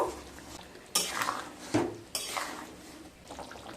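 A spoon of ghee is stirred into a pot of potol chingri, a pointed gourd and prawn curry made with yogurt and tomato, giving several distinct scraping strokes against the pot with soft clinks in between, close up, no voices.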